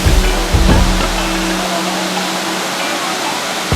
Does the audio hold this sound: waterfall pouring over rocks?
yes